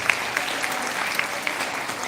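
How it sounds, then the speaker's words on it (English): Applause from the audience at a Grade 12 graduation ceremony: steady, dense clapping from a large crowd, moderately loud and continuous, with a few sharper claps standing out. "can we give them a round of applause?"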